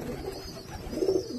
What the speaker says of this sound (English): I just got to get rid of a lot of birds. I got too many birds.